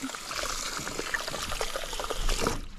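Water runs and trickles steadily while hair is carefully rinsed after a relaxer treatment at a wash basin. The close, continuous splashing has a few brighter drips, with no talking.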